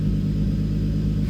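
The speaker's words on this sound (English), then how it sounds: "And now we're idling" A turbocharged Toyota IS200 idles close by: a steady, even low rumble with a smooth engine hum that holds at a constant level throughout, with no talking.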